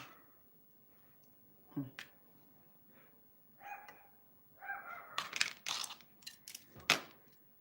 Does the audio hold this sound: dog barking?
yes